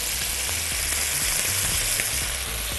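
Butter sizzles and fries steadily in a hot pan while cooking a chicken and broccoli soup, a continuous close, bright crackling hiss with no voices.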